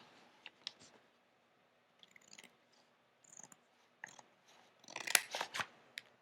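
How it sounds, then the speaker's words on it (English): Scissors snip 45-degree corners off the cover material for a drop spine box, a series of close, crisp cuts in separate bursts, busiest near the end. "Then I cut the corners off, and it's about a 45-degree cut"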